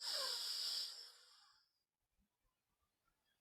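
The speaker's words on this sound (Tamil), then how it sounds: "முதல்ல நல்லா மூச்சு இழுக்கணும்" A deep pranayama breath drawn in through the nose, a strong close airy inhale lasting about a second before fading to near silence with faint small clicks.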